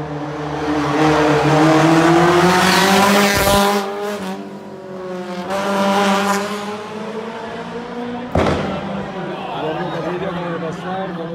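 A rally car on a stage of the Rally Villa de Espiel approaches with a rising engine howl, shifts through gears and passes, with a commentator's voice heard over the engine.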